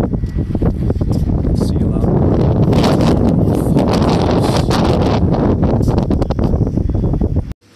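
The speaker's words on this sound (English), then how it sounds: "Nice windy day." Strong wind on a rooftop deck buffets the microphone in loud, rumbling gusts that continue throughout, with a rustling texture and no clear voice.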